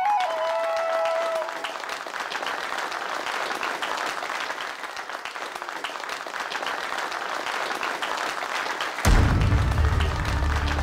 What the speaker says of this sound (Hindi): दोनों फैमिली साथ में ताली बजाओ।